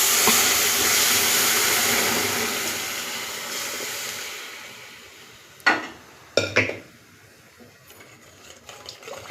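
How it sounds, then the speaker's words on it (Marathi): Spinach goes into a pan of hot tempering with green chilli, garlic, curry leaves and cumin, giving a loud sizzling hiss that slowly fades, followed by a few sharp utensil clinks and scrapes against the pan. "आता टाकून घेऊ हे पालक."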